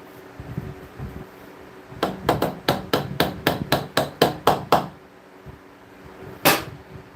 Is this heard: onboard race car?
no